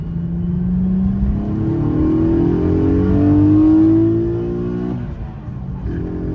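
A Nissan 370Z engine pulls hard at full throttle, its loud rising drone climbing steadily in pitch for about five seconds before easing off, with no talk over it.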